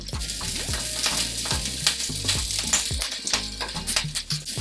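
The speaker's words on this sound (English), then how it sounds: "I have my stove on high because I wanted to char quickly." Jalapeño halves charring in a pan on a stove set to high, giving a steady close sizzle with sharper pops and crackles scattered through it, loud and continuous with no talking.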